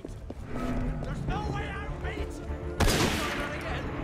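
Gunfire in the video game Assassin's Creed Unity, a sharp burst near the end over busy game ambience with horse hooves and crowd noise, while a player talks.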